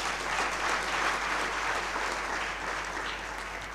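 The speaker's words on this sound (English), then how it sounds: "Can we also give her a big round of applause?" Loud, dense applause from a large crowd at a launch ceremony, a steady wash of clapping that fades slightly toward the end.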